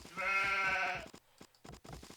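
A single sheep bleat from a video game, a clear wavering cry lasting about a second, followed by soft irregular clicks and thumps.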